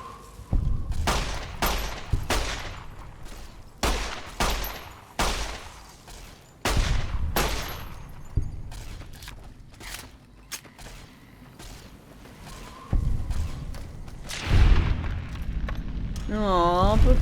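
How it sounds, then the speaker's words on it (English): Repeated heavy grenade blasts and gunfire from the game Fallout: New Vegas, a dense series of loud booming bursts and cracks spread across the whole stretch, with a voice talking in between. "Aw, but grenades."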